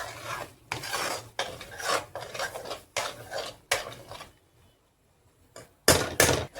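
A spoon scrapes and rasps against a pan in rhythmic close strokes while tomato paste masala cooks in oil for mutton masala, with a brief pause before two loud final strokes. Faint sizzling runs underneath.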